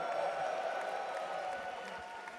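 A large arena crowd cheers and applauds steadily at the Dota 2 International grand final, a broad, roaring wash of noise that holds loud throughout.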